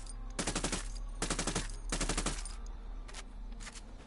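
Pistol gunfire in a video game, heard as three rapid bursts of sharp shots in quick succession followed by a couple of fainter single pops, moderately loud against a low background hum.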